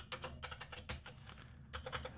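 Rapid keystrokes on a computer keyboard while entering code, a quick, fairly quiet run of clicky taps with a brief pause before a final short burst.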